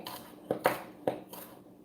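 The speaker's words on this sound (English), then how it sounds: "So we chopping this garlic up, not like too small" A knife chopping garlic on a cutting board in a home kitchen, a few sharp distinct knocks spaced about half a second apart, close and fairly quiet.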